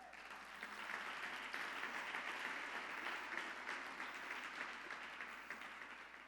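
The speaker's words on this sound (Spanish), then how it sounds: "Denle un fuerte aplauso al Señor." A congregation applauds for the Lord in church, with sustained, even clapping from many people that is somewhat distant and soft throughout.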